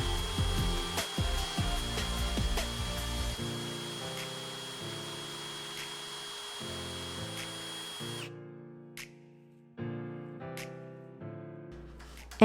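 A power drill whines in repeated bursts, its pitch rising and falling as it pre-drills holes about 1 to 1.5 inches deep, with brief pauses between runs.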